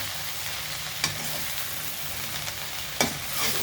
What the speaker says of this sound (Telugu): ఒక టెన్ మినిట్స్ అలాగ వేగిన తర్వాత మళ్ళీ ఒకసారి ఇలా కలుపుకోవాలి